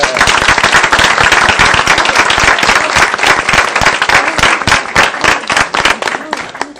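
Loud, close applause from a group at a school board meeting, with sharp individual claps standing out in an uneven rhythm that thins slightly toward the end.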